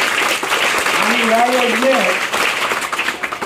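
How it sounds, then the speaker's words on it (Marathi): An audience at a village gathering applauds a village scheme with a dense, even wash of clapping that lasts throughout, while a voice speaks briefly over it. "या योजनेसाठी सर्वांनी टाळ्या वाजवायच्या"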